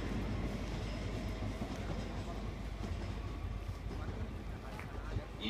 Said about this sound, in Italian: è in arrivo al binario 4